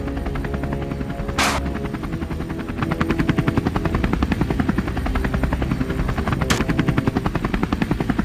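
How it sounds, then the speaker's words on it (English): A helicopter flies low, just below 60 feet, over harvested fields and forest while hunting wild boars, its rotor producing a loud, steady chopping thump throughout, with two brief sharp bursts standing out against the drone. "The helicopter descended to an altitude of just below 60 feet"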